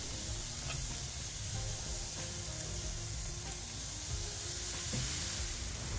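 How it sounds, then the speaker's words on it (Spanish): Beef sizzles on a gas grill with mesquite wood, a continuous close crackle and hiss with scattered small pops and no talking. "Escúchate la prueba de sonido. ¡Ay, papá, cómo suena eso"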